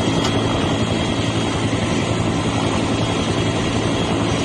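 The turbine engine of the Airwolf helicopter runs up to full power as a radio-drama effect, a loud, steady, dense roaring whine that holds unbroken throughout with no voices over it.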